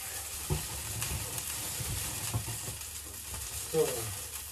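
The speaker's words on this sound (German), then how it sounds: "So, hier brutzelt es schon wunderbar." Sausage and vegetables, with mint, basil, chili and tomatoes, sizzle steadily in a frying pan, a constant broadband crackle with a few soft stirring knocks and clinks, close and moderately loud throughout.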